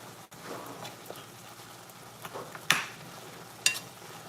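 Garlic and pepper frying in a pan give a low, steady sizzle throughout, broken by two sharp crackling pops near the end.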